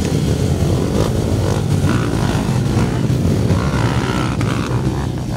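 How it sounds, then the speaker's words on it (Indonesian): Trail motorcycles rev hard along a 30 km hill track in Aceh Besar, a loud, continuous engine roar with rising and falling throttle, close by and unbroken by voices. "para rider langsung memacu motor trail melintasi trek sepanjang 30 km"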